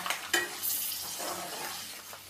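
Tempering of asafoetida spluttering in hot oil for mango pulihora, a short close burst of sizzle with a quick metal clink and stirring scrape at the start.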